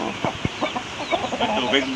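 Chickens cluck and murmur inside a coop in short, close bursts, with a person talking alongside them.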